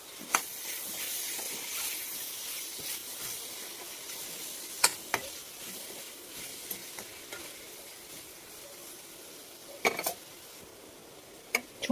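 Brinjal and peas curry with turmeric and salt is stirred in a pan, producing a soft, steady sizzle with occasional sharp clinks of a spoon against the pan.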